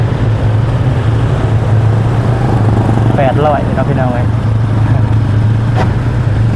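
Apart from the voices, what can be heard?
farm tractor engine running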